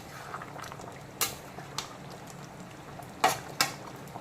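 Potatoes and pointed gourd with prawns simmer in a pan, a soft steady bubbling with a few sharp clinks of a utensil against the pan.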